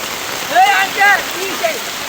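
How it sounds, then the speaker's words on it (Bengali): Steady rain hisses throughout during an outdoor Eid sacrificial-meat delivery in Cumilla, with several short shouted voices rising briefly over the downpour. "আরে আপনাদের জন্য বৃষ্টি আসছে"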